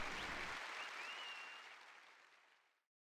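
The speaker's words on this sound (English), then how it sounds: "Did either of you just hear applause?" Applause and cheering from a crowd in a video game, fairly loud at first, then fading away to silence over a few seconds.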